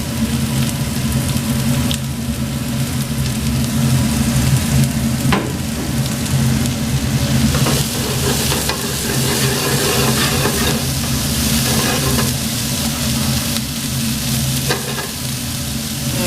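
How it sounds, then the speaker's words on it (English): Vegetables sautéing in sesame oil in a stir-fry pan for a Thai stir-fry, a loud, continuous close sizzle and hiss with occasional scraping stirs and no talking. "We're sauteing in sesame oil."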